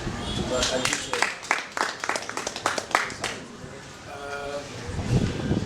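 A concert audience claps in a quick, rhythmic burst that fades after a few seconds, heard from within the crowd alongside a voice on a loudspeaker.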